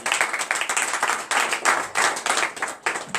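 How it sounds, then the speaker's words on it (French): A congregation at a morning prayer service in Benin claps and applauds in steady, rhythmic bursts, loud and close, filling the whole stretch. "Donnez l'acclamation à notre Seigneur Jésus."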